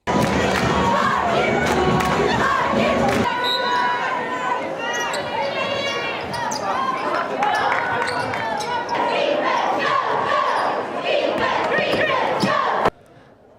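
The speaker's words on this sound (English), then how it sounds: "The crowd was there in support of the ladies basketball team in a close fourth quarter finish." Crowd at a close fourth-quarter finish of a Rider women's basketball game against Niagara University, a loud, sustained roar of cheering and shouting with ball bounces and thuds, then cutting off abruptly near the end.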